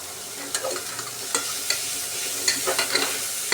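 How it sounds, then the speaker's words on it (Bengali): Washed rice, lentils and vegetables sizzle in a pot while a spoon stirs them, sending out a string of scraping strokes over a constant frying crackle, with no one talking. "এবার আমি সেই ধুয়ে রাখা চাল এবং ডালগুলো দিয়ে দিচ্ছি এগুলোর সাথে সবজিগুলোকে ভালোভাবে নেড়ে চেড়ে নেব"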